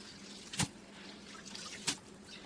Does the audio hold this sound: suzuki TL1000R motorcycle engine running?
no